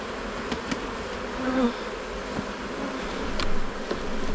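Honeybees buzz around a native Wiltshire queen while a swarm is handled in August, a steady close hum with brief louder passes as individual bees fly near.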